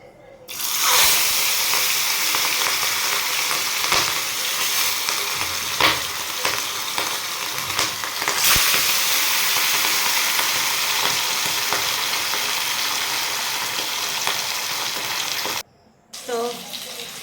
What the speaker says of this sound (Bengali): মাছ ভাজাটা তো চাপে দিলাম